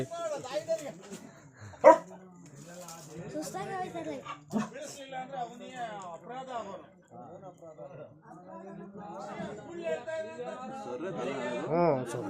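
A dog barks and yips intermittently while people talk loudly over it, with a sharp thump partway through.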